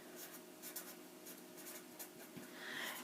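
Pen scratches across paper in short, quiet strokes as a chemical formula for sodium chloride is written out by hand, faint and close with no other sounds.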